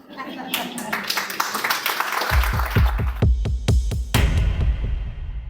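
Live stage audience applause, a scattered crowd clapping for a couple of seconds before steady, rhythmic low thumping beats take over beneath it.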